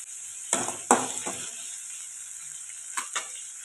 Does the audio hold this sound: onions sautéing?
yes